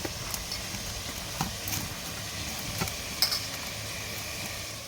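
Steady crackling sizzle of cauliflower frying in hot oil, close by, with a few soft clinks and scrapes over the continuous hiss.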